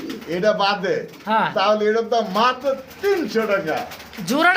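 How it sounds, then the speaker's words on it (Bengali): Pigeons coo among a group of birds offered for sale, their soft repeated calls close by and mixed with continuous conversation between people. "দেখতে পাচ্ছি চমৎকার একটা কবুতর"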